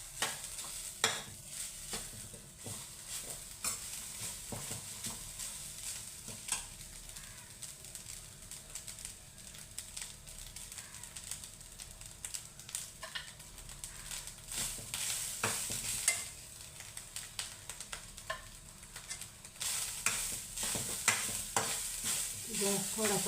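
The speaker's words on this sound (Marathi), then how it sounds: "ह्याला आता चांगला असं परतू द्यायचं थोडंसं" Grated coconut for coconut burfi stir-fried in a pan over low heat: a steady soft sizzle with frequent scraping and stirring clatters of the spatula throughout, fairly close.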